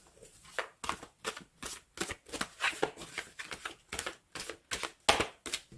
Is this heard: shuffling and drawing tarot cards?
yes